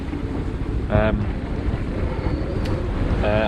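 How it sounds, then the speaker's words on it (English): Sailboat beating hard upwind with three reefs in the main, sailing from Falmouth to Roscoff; loud wind buffeting and rushing water fill the clip, with rigging noise and brief tonal whines rising above the gusts. "here we are now, really hard pressed upwind, 3 reefs in the main"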